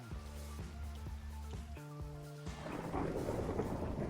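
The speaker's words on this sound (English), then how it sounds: "all right, it is thunderstorm time." Minecraft thunderstorm: after a stretch of sustained tonal game music, a rough crackling rumble of thunder and rain rolls in and fills the last second and a half at moderate loudness.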